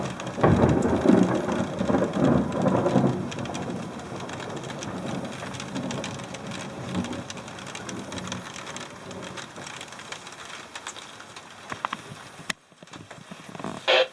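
Heavy rain pours down steadily while thunder rumbles, loudest at first and then easing to a dense, hissing downpour, in Biloxi, Mississippi.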